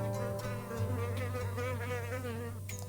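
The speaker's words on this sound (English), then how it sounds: "Got a little visit from a bee just now." A bee buzzes close by on a hike toward Santa Elena Canyon in Big Bend National Park, a steady droning hum that wavers in pitch as it hovers near, with no talking.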